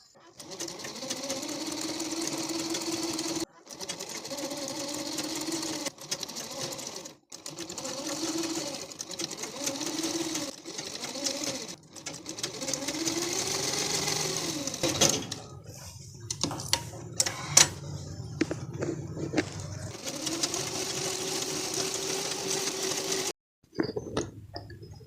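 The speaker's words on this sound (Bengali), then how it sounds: "এই লাইনিং কাপড়টাকে, এই হাতার যে কাপড়টা আমি কেটে রেখেছিলাম, এটা এখানে সেলাই করে নেব" A sewing machine stitches lining fabric onto a puff sleeve for a blouse, running in steady motorized bursts with a rising and falling whir and brief pauses, close up, with faint talk now and then.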